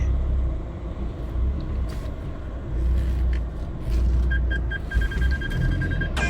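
A car grinds off-road up a steep mountain trail to a border base near Khao Pla Noi, Kanchanaburi, with a close, continuous engine rumble, uneven surges and a brief high brake-like squeal near the end.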